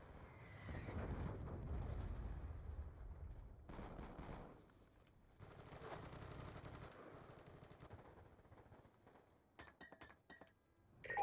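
Explosions and heavy gunfire from Hellstorm missile strikes in the video game Black Ops 2, a dense rumbling barrage that surges, pauses, and returns with sharper scattered blasts near the end.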